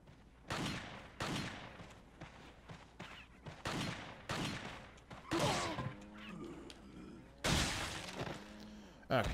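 Pistol shots at targets in Resident Evil 4 fire in sharp, loud bursts at irregular intervals, some followed by shattering impacts, with a person talking between them.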